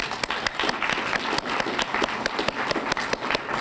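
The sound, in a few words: audience applause at a lecture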